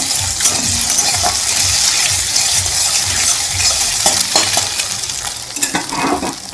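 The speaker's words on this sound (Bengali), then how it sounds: "দেখো অল্প পরিমাণে জল দিচ্ছি" Water poured into a hot cooking pan during a home curry cook, a steady close sizzling and bubbling hiss that runs throughout with occasional scraping stirs.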